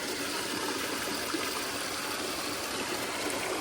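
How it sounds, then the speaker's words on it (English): A stream flows steadily nearby along a path in Ubud, Bali, a constant bright rush and babble of water with no pauses or voices. "I love the sound of water."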